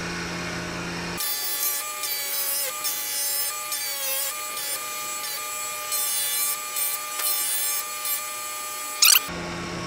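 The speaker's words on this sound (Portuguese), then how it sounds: "Agora eu vou lixar embaixo para tirar essas manchas" The underside of a skateboard deck is sanded to remove resin stains with a power sander, a loud, steady whine starting abruptly and running several seconds before cutting off.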